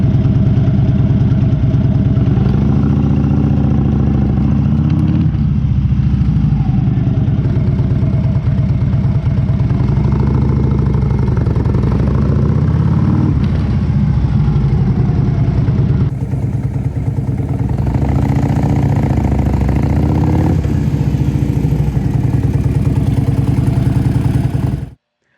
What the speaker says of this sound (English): listen to the engine and notice that there's no throttle roll off when I'm taking off